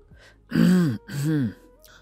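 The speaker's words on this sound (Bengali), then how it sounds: "মুখের কাছে হাত নিয়ে ইচ্ছে করে কাশি দিল লোকটি" A man clears his throat twice in quick succession, close and distinct, two gruff, voiced rasps separated by a short pause.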